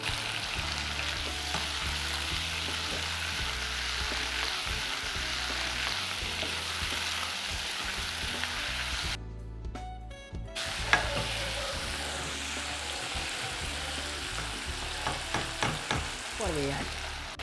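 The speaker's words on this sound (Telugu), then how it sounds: "ఉల్లిపాయలు సగం వేగిన తర్వాత టమోటాలు వేసుకోవాలి." Onions and tomatoes frying in a pan for rajma palak curry: a steady, close sizzle that carries through the whole clip, with stirring scrapes and a brief dip partway.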